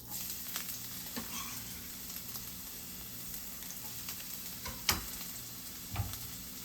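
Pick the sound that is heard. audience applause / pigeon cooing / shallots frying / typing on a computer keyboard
shallots frying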